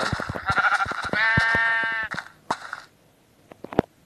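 A sheep in Minecraft Pocket Edition lets out a single wavering bleat, surrounded by sharp clicking game sounds and footsteps.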